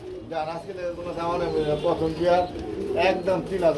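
Pigeons coo in soft, repeated throaty phrases close by, with a few higher chirps mixed in.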